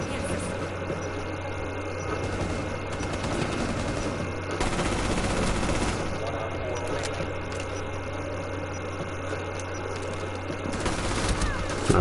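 Rapid video-game gunfire rattles steadily through the whole stretch under a constant low hum, with bursts growing denser around the middle and near the end.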